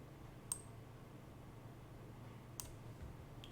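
A computer mouse clicks three times, soft and close, at uneven intervals over a quiet, steady background hum.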